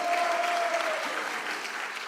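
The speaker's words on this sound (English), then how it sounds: "Give a huge round of applause for Mukundhari Prabhu, please." An audience at a devotional festival claps together in a dense, sustained burst of applause, close and steady throughout, with a brief tone briefly heard at the start.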